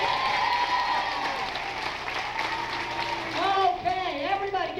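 A theme-park crowd packed into bleachers claps and cheers for the green team, dense sustained applause with whoops and shouts rising near the end.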